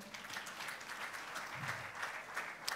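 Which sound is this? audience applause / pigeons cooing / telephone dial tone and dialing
audience applause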